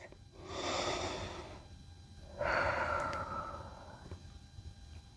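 Two deep, slow breaths are taken close to the microphone during a breathing exercise, each a long, airy rush followed by a quiet pause.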